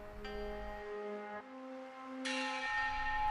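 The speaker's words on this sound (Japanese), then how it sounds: "そうこうしている間にも、鐘を打つ手ばかりは変わらずに動いている。" A temple bell is struck repeatedly, each strike ringing out with long sustained resonant tones that overlap and decay, clear and alone.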